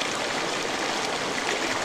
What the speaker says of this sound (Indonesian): Suara air mengalir sering kita dengar sebagai terapi otak yang menenangkan.